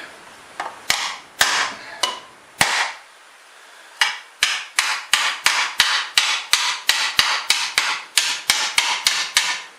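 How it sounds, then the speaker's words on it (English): Hammer blows on sheet metal held over a wooden shrinking stump, several separate strikes early on, then a steady fast run of sharp, loud metallic hits, close up with no talking. "As you're nailing this down, as you're pushing this down, it's forcing the metal into itself."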